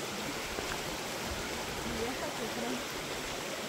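Water rushes steadily down a creek outdoors in El Salvador, a broad, constant hiss-like flow at moderate level with no clear speech over it.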